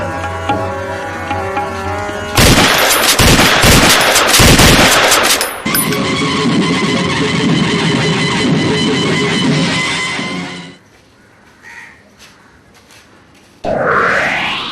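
A rapid burst of loud gunshots crackles for a few seconds, followed by a dense, noisy stretch and then near quiet.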